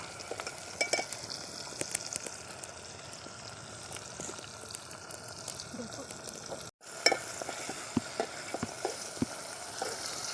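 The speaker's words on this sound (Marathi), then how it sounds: "याला चांगलं आपल्याला तळून घ्यायचे मसाले सगळे कांदा लसूण तेजपत्ता टमाटर" Spices, onion, garlic, bay leaf and tomato fry for a village-style chicken curry cooked over a wood-fired stove, giving a steady crackling sizzle with frequent small pops and occasional stirring scrapes throughout.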